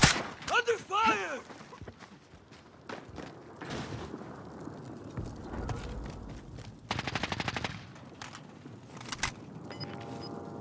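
Rapid machine-gun bursts and single shots crack in a Call of Duty: Warzone match, close and loud, mixed with thuds and game sounds and spoken over by voices.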